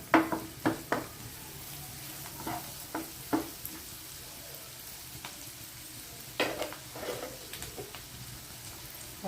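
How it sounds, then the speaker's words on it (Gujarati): Onions frying in a pan over a full gas flame, a soft continuous sizzle broken by repeated sharp spoon scrapes and clinks as they are stirred. "થોડો ગેસનો ફ્લેમ ફૂલ કરી દઉં તો ડુંગળી છે ને આપણી બ્રાઉન થઈ"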